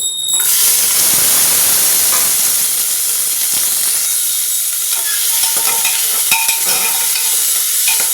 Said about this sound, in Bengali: এবার এই কেটে রাখা সবজিগুলো দিয়ে দেবো।